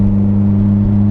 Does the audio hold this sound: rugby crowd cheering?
no